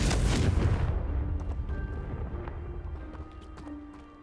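A Confringo blast spell goes off in the Hogwarts Legacy video game, a loud booming burst at the start that fades into a long rumbling tail with faint scattered crackles and a low game hum.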